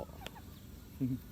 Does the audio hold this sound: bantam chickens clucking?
yes